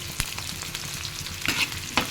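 Onions sizzle in hot oil in a pan while cooking for chilli chicken, with steady crackling and a few sharp scrapes and knocks from stirring.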